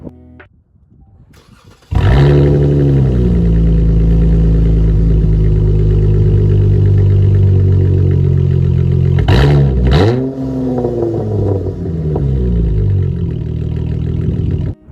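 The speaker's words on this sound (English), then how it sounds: "I will give you an exhaust clip of that right now" A 2019 Dodge Challenger SXT with a straight-pipe exhaust and deleted resonators starts with a loud crack, settles into a deep, steady idle close by, then gives a sharp rev blip before dropping back to idle.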